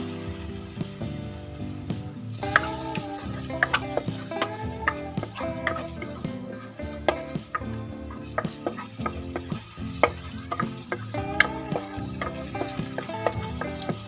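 Tomato paste fries in oil with spiced masala while a spoon stirs it. Steady sizzling and scraping taps run under a continuous tonal musical backdrop.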